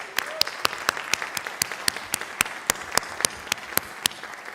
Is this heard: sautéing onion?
no